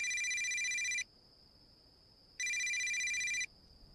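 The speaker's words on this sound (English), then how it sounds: "Suddenly, Tim's cell phone rings." A cell phone rings with two bright electronic bursts, each about a second long, separated by a short pause; the ringing stands alone and close, with no talk.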